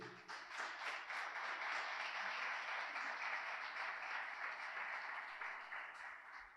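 Church congregation at a Spanish-language sermon giving sustained applause, a dense, steady wash of many hands at moderate distance, lasting several seconds without a break.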